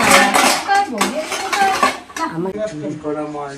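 Metal pots, pans and utensils at a seller's stall clattering and ringing loudly up close, several overlapping metallic knocks whose tones ring on and decay, with a voice faintly present underneath.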